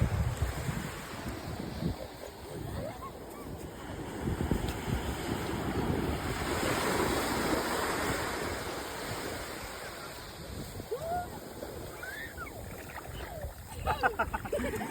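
Sea waves wash steadily onto a beach with gusty wind buffeting the microphone, the surf swelling and receding in a continuous roar, with faint voices nearby.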